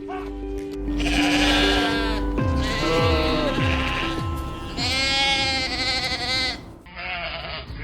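Several Cashmere goats bleat loudly and close by, overlapping wavering calls one after another with no pause.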